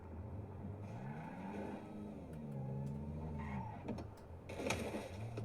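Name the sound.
electric car driving in a video game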